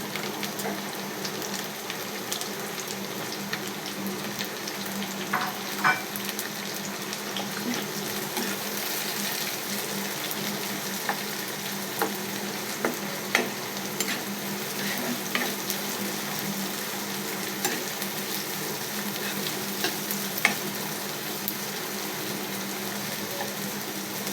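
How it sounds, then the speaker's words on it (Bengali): Chopped onion and green chili fry steadily in mustard oil with a constant, dense sizzle and scattered pops that stay close and even throughout. "এটা একটু ভাজা ভাজা হোক, অপেক্ষায় থাকুন। একটু কালার করে ভেজে নিতেছি।"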